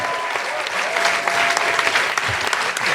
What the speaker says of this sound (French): On peut l'applaudir, c'est après 3 échoués.